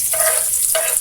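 Onion and garlic dropped into a hot pan, frying with a loud continuous crackling sizzle that fills the whole moment, close and bright, without talk.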